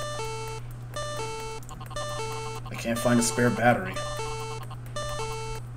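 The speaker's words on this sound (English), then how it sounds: "Pal Percy's beeping." The Pal Percy toy in the video game Playtime With Percy gives a repeating electronic beep pattern, regular bursts about once a second over a steady hum, with someone talking briefly in the middle.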